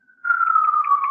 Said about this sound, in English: If you hear sirens in the background, that's because she's in NYC.